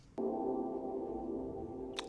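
A delay-effect guitar sample plays a sustained, shimmering chord that starts abruptly and rings steadily on its own, fairly quiet, with a brief click near the end.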